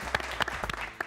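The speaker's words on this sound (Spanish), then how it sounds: "Aplauso para Leonardo" A short burst of clapping from a small group, with a few sharp individual claps standing out.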